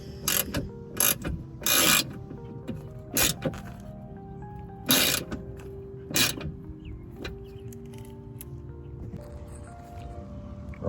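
Hand ratchet clicking in short bursts while snugging bolts on a 2008 Ford Expedition door panel, quick pawl ticks separated by pauses and faint clatter, close up with no talking.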